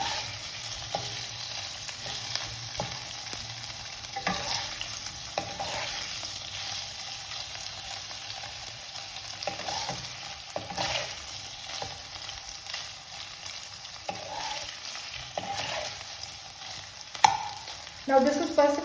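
Paneer cubes frying in a pan for matar paneer, a continuous low sizzle with occasional stirring scrapes and small pops, steady and close, with no talk.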